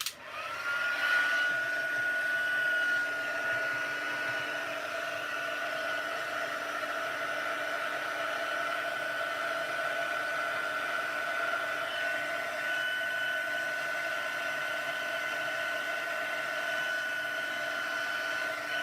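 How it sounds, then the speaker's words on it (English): A crafting heat tool drying white ink on stamped gift tags blows with a steady whirring roar and a faint whine, starting abruptly and holding at an even volume throughout, close and alone. "if you just bear with me till I use the heat tool and dry off the white ink"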